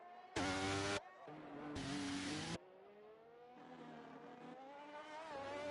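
McLaren race cars in a racing video game at the Abu Dhabi circuit, two engines whining and revving close together as they swap positions, pitch rising through gears with bursts of loud engine roar.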